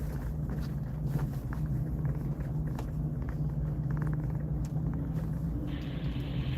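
Steady low engine rumble and idling of vehicles crawling along an off-road Jeep trail, continuous and fairly close, with faint crunching underfoot or tire noise and no voices.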